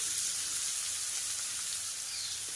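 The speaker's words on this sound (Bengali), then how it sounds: "এবারে পেঁয়াজটাকে ভাজা করে নেব" Chopped onion sizzles in hot oil in a pan, a steady hissing crackle that stays fairly quiet and even from start to finish, with no talking.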